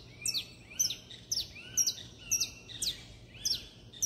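A small bird sings outdoors, giving about seven short, bright chirping phrases in a steady rhythm over a faint low background hum.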